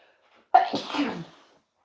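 A single sharp sneeze bursts out close by, short and forceful, followed by silence.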